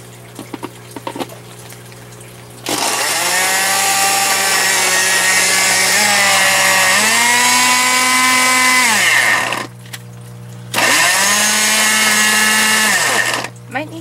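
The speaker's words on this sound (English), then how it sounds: "This is our garden blender." An old garden blender whirs loudly as it purees worm food scraps with water, running in two long bursts separated by a brief pause. The pitch shifts as the load changes, and short clicks come just before and after.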